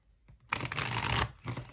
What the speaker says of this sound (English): So I'm going to give this a proper shuffle now.